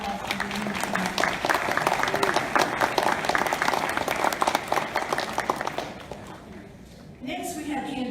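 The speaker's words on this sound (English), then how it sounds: "Let's just give all these candidates a round of applause." An audience at a 2018 candidate forum in Plant City claps for the candidates, loud, dense applause sustained for about six seconds before dying away, followed by a brief voice.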